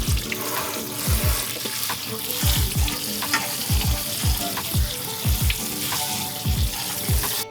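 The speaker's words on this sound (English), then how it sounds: "So our chili's been simmering for about 10 minutes now" White rabbit chili in a pot, a busy close frying crackle with repeated low scraping stirs at a fairly even rhythm, no voices.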